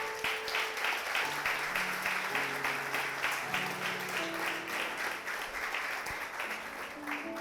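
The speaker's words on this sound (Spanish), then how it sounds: "Denle un aplauso al Señor" A church congregation applauds steadily throughout, a sustained crowd clapping with some faint voices and organ-like tones underneath.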